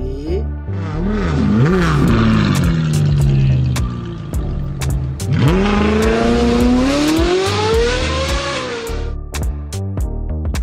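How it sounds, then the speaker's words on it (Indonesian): A Ferrari car engine revs loudly and continuously, its pitch rising and falling in sweeping waves, dipping low before climbing again in a long, strained run up. "Wow, ada mobil Ferrari."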